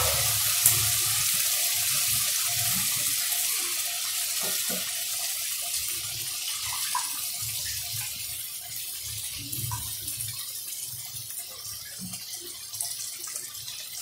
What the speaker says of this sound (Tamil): இப்ப நம்ம அந்த புளியை ஊத்திடலாம்